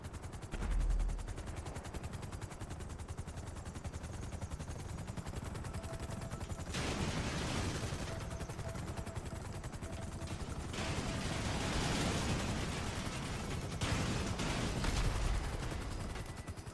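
Rapid cannon and gunfire rattle continuously at a Savage attack helicopter in GTA Online, sustained bursts swelling and fading over a constant rotor-like roar, with no talking.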